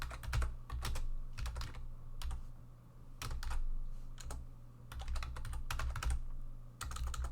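Typing on a computer keyboard, close and clear, comes in quick bursts of clicking keystrokes separated by short pauses, with no talking.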